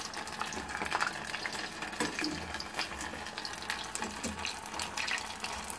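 Small fish frying in oil over low heat, a steady broadband crackle and sizzle that runs evenly and fairly close throughout, with no voices.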